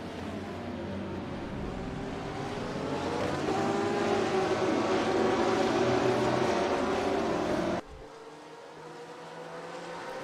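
GT3 race cars roaring around the Daytona road course in a racing video game, a dense steady engine drone that swells in the middle before cutting abruptly to a quieter, thinner engine note near the end.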